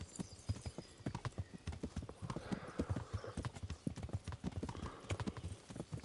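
Horse hooves clip-clop at a steady walking rhythm in the medieval game Kingdom Come: Deliverance, a continuous run of close, distinct hoof strikes with faint background ambience.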